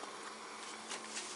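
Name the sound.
bees buzzing in greenhouse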